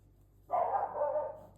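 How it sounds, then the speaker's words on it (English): A dog gives one loud, close bark that trails off over about a second, heard alone in a quiet room where someone is crocheting a granny hexagon cardigan. "Sorry about that barking."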